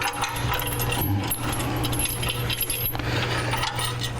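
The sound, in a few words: handling bolts and washers for Jeep bumper install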